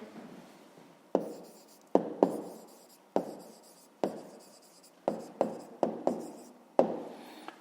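A pen writes on paper during a Ukrainian fifth-grade math lesson, about a dozen close, quiet strokes with short scratchy onsets coming at irregular intervals, and no one speaks.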